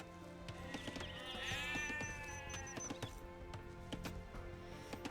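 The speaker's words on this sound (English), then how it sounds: "so sheep is a new resource in this game" Sheep bleat in the Age of Empires 2 strategy game, one clear wavering bleat in the middle over a quiet bed of game ambience and small clicks.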